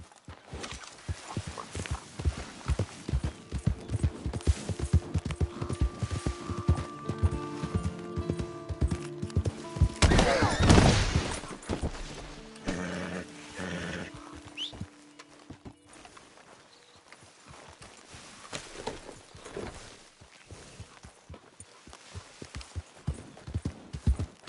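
Horse hooves clip-clop in Red Dead Redemption 2, a steady, close, rhythmic walking beat of hoof strikes with a denser, louder flurry midway before settling back into an even gait.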